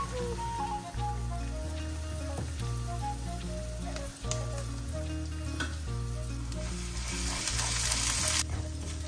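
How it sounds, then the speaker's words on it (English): Crushed garlic and ginger sizzle steadily in hot ghee, a dense, close frying hiss running the full length with occasional light pops and stirring, no voices over it. "Saute 2 teaspoon crushed garlic and 1 teaspoon crushed ginger. Saute till it gets fried or the roast smell goes."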